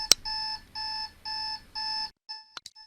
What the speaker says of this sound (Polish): I teraz dźwięk budzika, ponownie mikrofon krawatowy.